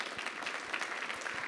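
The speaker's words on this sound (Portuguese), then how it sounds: "Salva de palmas, porque esse negócio dele é muito legal, gente" Audience applause at a liberty forum panel on drugs and violence, a dense steady patter of many hands clapping throughout, fairly faint and distant with no voices.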